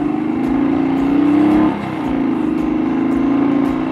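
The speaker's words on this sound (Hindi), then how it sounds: "इसका जो एग्जॉस्ट साउंड है ना वो बहुत ही मक्खन सा लग रहा है मुझे" A motorcycle's exhaust drones steadily while riding, a smooth low buzz that rises slightly, dips briefly as the throttle eases, then carries on evenly, with wind and road noise around it.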